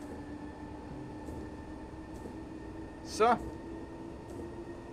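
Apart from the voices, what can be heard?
DOT train accelerating, line F+ toward Klampenborg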